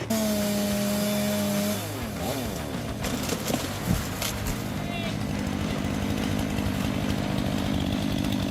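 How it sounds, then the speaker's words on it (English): A chainsaw cutting through a large log of wood, its engine running loud and steady throughout with a pitch shift as the chain bites in, while a voice speaks over it. "Chainsaws allow users to cut trees, branches, or large logs much faster than manual saws."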